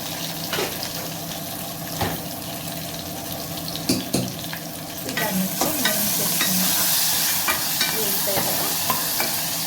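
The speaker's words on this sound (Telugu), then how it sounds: "అలాగే పచ్చిమిరపకాయలు కూడా వేస్తున్నానండి." Green chillies fry with turmeric and a pinch of chilli powder in a pan for Telugu chinthakaya pappu, a steady close sizzle with spoon stirring scrapes and clinks that grows louder and denser toward the end.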